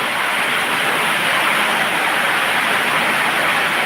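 Steady rain pours down outdoors, a dense, even hiss that holds at the same loud level from start to finish with no voices over it.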